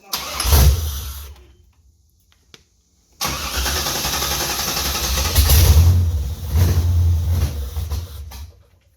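A car engine after an engine swap cranks and catches with a short rev, cuts out into near silence, then restarts and revs repeatedly, rising and falling loud and close without talk.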